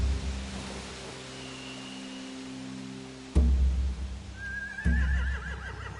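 A horse whinnies in The Walking Dead game soundscape, a wavering high neigh near the end, with a couple of heavy thuds over a low steady ambient hum.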